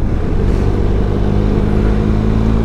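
A motorcycle rides a winding road in France, its engine droning loud and close with steady low harmonics and slight revving, no talk.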